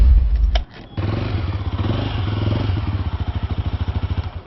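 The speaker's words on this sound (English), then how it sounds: "that's how the Mojo exhaust sounds as you turn on the ignition" A Mahindra Mojo motorcycle engine starts up close by with a thud and clatter, then settles into a loud, steady exhaust grumble that becomes a rapid, evenly pulsing idle.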